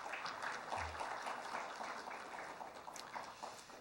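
An audience at a software industry protection awards ceremony claps in congratulation for the winners, a steady, moderately distant roll of applause sustained throughout.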